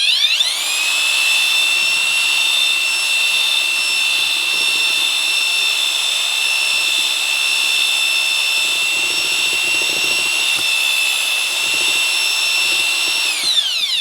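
A power drill whines steadily at high speed for the whole stretch, loud and close, with a faint low churning underneath as it mixes thick thinset mortar.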